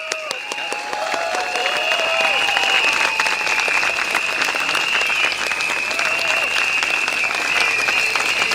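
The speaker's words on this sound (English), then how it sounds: "Please give a big round of applause to all our speakers tonight on stage." A crowd at a Progress Singapore Party election rally in Bukit Gombak applauds the speakers on stage, with dense, sustained clapping that swells after the first second and stays loud. Cheers and a voice rise over it.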